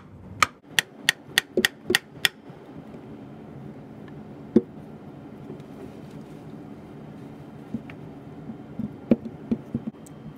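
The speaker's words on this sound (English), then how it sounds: "If I can tap it down." Sharp metallic hammer taps driving a shift shaft seal into a Chrysler TorqueFlite transmission on a Jeep Wrangler, a quick run of about seven evenly spaced blows, then a few scattered taps over a low background hum.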